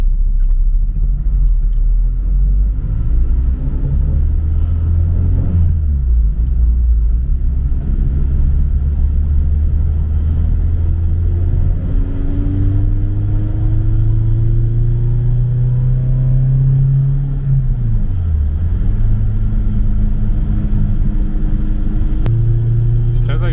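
A Citroën C6 with a stainless exhaust line accelerates smoothly, its deep engine rumble rising steadily in pitch through the gears. People talk over it inside the car.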